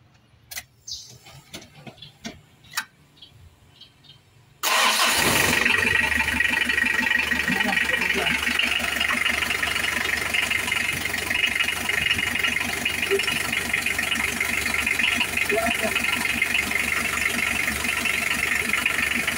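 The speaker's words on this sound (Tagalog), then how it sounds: "Paandarin natin mga kaibigan ha." A car engine cranks and catches after a timing belt and tensioner bearing replacement, settling straight into a loud steady idle with a fast ticking rhythm, preceded by a few quiet clicks and handling noises.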